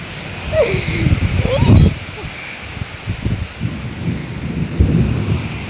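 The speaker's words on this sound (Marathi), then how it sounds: "अरे बापरे किती गर्जना देतोय पाऊस" Deep rumbling thunder rolls under steady heavy rain, loud and close, while a voice speaks over the downpour.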